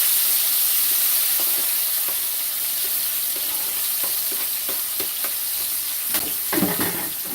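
Green onions, tomatoes and peppers sizzle steadily in a pot, with a constant hiss of frying and occasional clicks and scrapes of stirring that grow busier toward the end.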